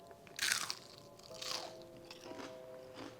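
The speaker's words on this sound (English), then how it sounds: "onion rings that are super crunchy and packed with flavor" Crunchy fried onion rings being bitten and chewed close up, a loud crisp crunch on the first bite followed by softer crackling chews, no talking.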